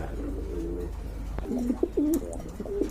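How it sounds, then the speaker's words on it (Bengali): Male racer pigeon cooing close by in a few throaty, rolling phrases, with a short quiet stretch between bouts. "কবুতর ডাকতেছে এটা হচ্ছে নর"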